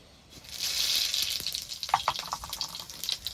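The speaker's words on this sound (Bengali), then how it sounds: "এবার ফোড়নে দিয়ে দেবো দুটো শুকনো লঙ্কা কটা রাঁধুনি আর কটা জিরে" Dried red chillies, radhuni and cumin seeds hit hot oil in a pan with a sudden burst of sizzling that settles into crackling and spattering pops, close and fairly loud.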